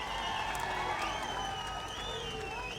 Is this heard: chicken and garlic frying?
no